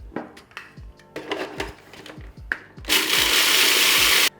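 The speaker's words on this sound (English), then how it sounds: "So I'm gonna add just about 1/2 of this back into the food processor" A food processor grinds pita bread into breadcrumbs. Short clattering pulses come first, then the motor runs loud and continuous for over a second before cutting off.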